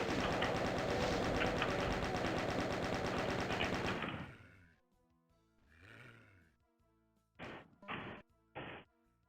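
Gunfire in the video game Doom opens as a dense, loud burst of rapid shots lasting about four seconds, then a muffled thud and three short sharp blasts spaced apart near the end.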